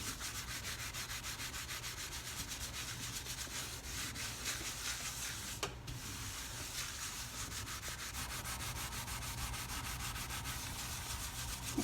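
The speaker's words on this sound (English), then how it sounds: "See, there was a spot there and I can feel it. And I just scrub." Steady scrubbing on a spot during cleaning, a continuous rough rubbing that stays even and close throughout, with one brief sharp knock midway and no talking.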